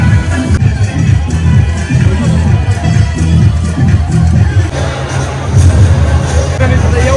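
A dense crowd at a VIP wedding attended by politicians, a loud, continuous wash of overlapping voices and babble with occasional shouts, steady throughout and close around the listener.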